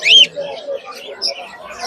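Lutino pet birds for sale at a busy weekly market chirp in short, bright tweets scattered through the moment, close by, with some voices in the background.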